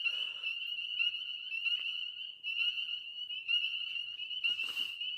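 Frogs call in a steady, high-pitched trilling chorus, with short breaks and a brief burst of rustling noise near the end.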